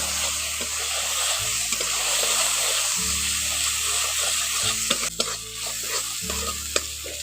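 Sliced onions frying with green chili and cumin paste for a spicy fish curry, a steady close sizzle under repeated scraping strokes of a spatula stirring the pan, with a low hum running throughout.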